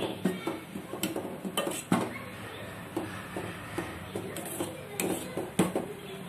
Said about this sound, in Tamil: கொஞ்சம் கிண்டி விட்டுட்டே தான் இருக்கணும் கிளறி விட்டுட்டே இருக்கணும்